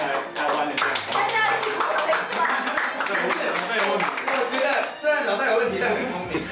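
Hand clapping from the crew in a television studio during an anime talk show, a quick run of sharp claps mixed with overlapping chatter and laughter.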